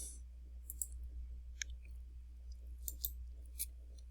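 Several faint, sharp clicks of a computer mouse spread irregularly over a few seconds, close by, over a steady low hum.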